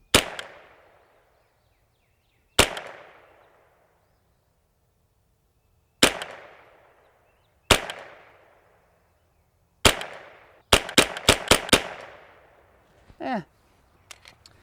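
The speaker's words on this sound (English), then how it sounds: "Let's get back to the group shooting." A semi-automatic .22LR rifle fires during group shooting, first as sharp single shots spaced a few seconds apart, then as a quick string of rapid shots, each ending in a short decaying ring.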